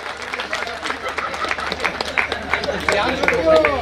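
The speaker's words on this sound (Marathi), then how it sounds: "परत एकदा या तिघांसाठी जोरदार टाळ्या वाजवा" An audience at a Chhatrapati Sambhaji Maharaj birth anniversary festival breaks into applause. The clapping is dense and swells toward the end, with crowd chatter and voices mixed in.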